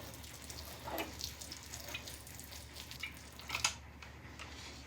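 Water is poured over freshly sown stock seedlings to settle them onto the soil surface, giving a soft, quiet trickle and splash with a brief louder spatter near the end.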